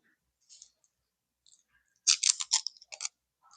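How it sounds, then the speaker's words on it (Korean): A church congregation tears open thin plastic wrappers during a communion service, producing faint scattered crinkles, then a denser burst of crisp rustling and clicking from several people at once. "얇은 비닐 뜯어내시고요."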